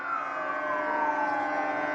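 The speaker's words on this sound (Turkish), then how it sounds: "teknelerden gelen siren seslerini duyuyorsunuz" Steady, loud sirens from boats on the water off Dolmabahçe Palace, Istanbul, during the 10 November Atatürk commemoration, wailing continuously at a sustained pitch with slight wavering, sounding from a distance across open space.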